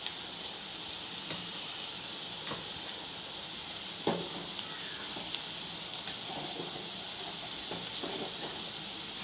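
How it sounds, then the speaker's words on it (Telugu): Thinly sliced onions with green chilli, whole spices and ginger-garlic paste frying in a pan, a steady even sizzle with faint occasional clicks of stirring, continuous and close, no talking. "సన్నగా కట్ చేసుకున్న ఆనియన్స్ వేసేస్తున్నాను."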